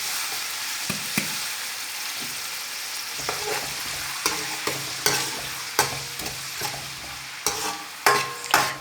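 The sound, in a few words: onions frying in a pan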